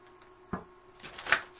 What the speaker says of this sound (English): Shuffle 3 times and then take from the top.